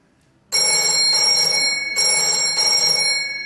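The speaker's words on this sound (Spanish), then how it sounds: "¿Recuerdan cuando se daba el número de teléfono de la casa, el número fijo, y de repente sonaba esto?" An old landline home telephone rings with a bright, metallic bell tone that starts abruptly and rings continuously in close bursts, loud and alone.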